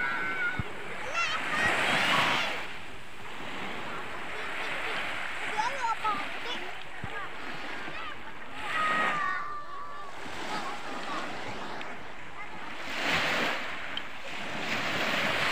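Sea waves wash onto the shore in broad surging swells under steady wind noise, with faint voices in the background.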